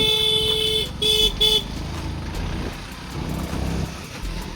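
Several short bursts of a car horn beeping close by over the idling and passing traffic noise of a village road, with no speech.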